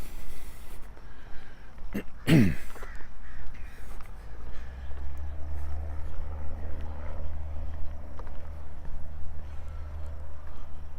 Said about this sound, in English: Crows overhead.